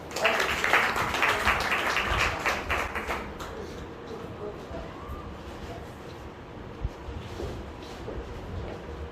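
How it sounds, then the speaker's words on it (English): Applause fills a room at a school interns' farewell during a prize giving, with dense clapping for about three seconds that thins out into scattered claps and murmuring room noise. "Big round of applause."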